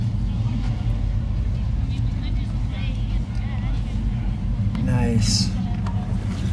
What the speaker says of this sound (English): are in the '73 Plymouth Barracuda, and we're just driving through the show